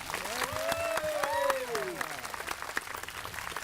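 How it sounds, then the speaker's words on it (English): Audience applause at a tribute to a beloved educator, moderate clapping from a crowd with a voice talking and rising over it in the first half before the clapping carries on alone. "Let's give her a big round of applause."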